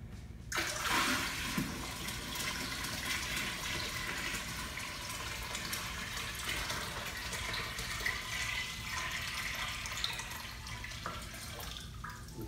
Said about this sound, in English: we're gonna continue filling this tank